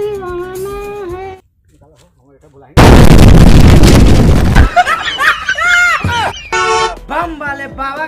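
A Diwali firecracker bomb goes off in a single sudden loud blast that rings on for about two seconds, set between comic voices and laughter.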